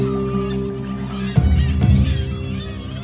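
Seabird colony on the Isle of May with eider ducks among the birds, a steady layered chorus of calls and honking cries with a couple of louder bursts standing out partway through.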